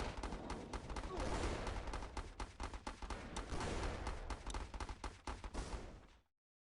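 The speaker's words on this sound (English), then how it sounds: "MG nest deployed." Machine gun nest firing in a video game, sustained rapid bursts of automatic fire with dense, overlapping shots that keep up loud and steady for about six seconds before cutting off.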